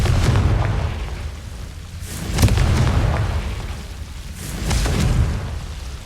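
Repeated Confringo fire spell explosions in the Hogwarts Legacy video game, loud booming blasts with rumbling tails, the biggest near the middle and another toward the end, over continuous low battle noise.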